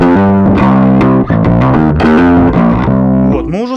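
Bass guitar played through an overdrive pedal with the drive turned up to three o'clock, giving loud, thick, distorted notes in a quick riff and ending on a sliding bend.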